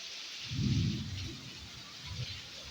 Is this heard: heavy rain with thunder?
yes